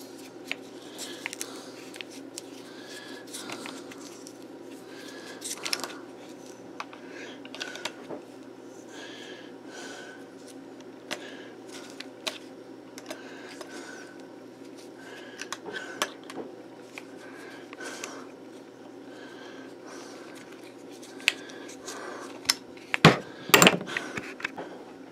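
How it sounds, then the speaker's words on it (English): An Allen wrench loosening the bolts on the underside of a Minelab Equinox metal detector control head, heard as sparse small clicks and scrapes close up, ending in a short cluster of sharper metallic taps. "Get you an Allen wrench and take off the bolts."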